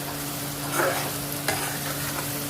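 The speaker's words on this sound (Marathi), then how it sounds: "चांगलं तेल तिथेपर्यंत परतून घ्यायचं बघा मोठ्याच गॅसवर आपण सगळं परतलेलं आहे" Ginger, garlic, tomato, coriander, mint and green chili masala sautés in oil on a high flame, giving a steady dense sizzle with occasional spatula scrapes and stirs.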